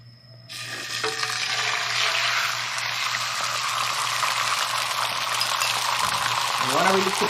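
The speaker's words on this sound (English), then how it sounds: "We have a hot pan here. Put some oil in there. We're just gonna scramble this real quick." Eggs hitting hot oil in a pan and being scrambled, a loud, continuous sizzle that bursts in abruptly and holds steady, with faint scraping near the end.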